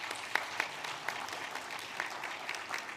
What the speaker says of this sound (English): Please give applause to our speakers today.